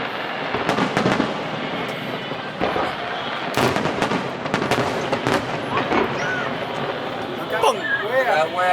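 Fireworks display at the Honda Celebration of Lights festival in Vancouver, with Team Quebec's show: repeated sharp bangs and crackling bursts over a continuous roar of crowd noise, with people talking and cheering nearby.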